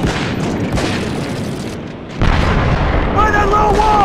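Artillery fire and explosions boom in the PS2 game Medal of Honor Vanguard, a heavy rumbling barrage with a fresh blast about midway, while voices shout over the battle.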